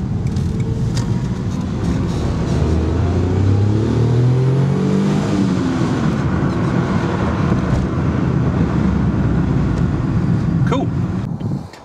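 A Daihatsu Charade, Cuore or Mira kei car pulls hard in second gear after a clutch replacement, its small engine droning loud and steady up through the revs with road rumble throughout and a faint voice under it.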